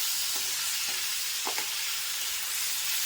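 Tomatoes and onions sauté in a pan with a steady, hissing sizzle throughout, and a few faint scrapes and taps of a spatula in the middle.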